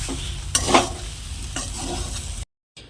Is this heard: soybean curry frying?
yes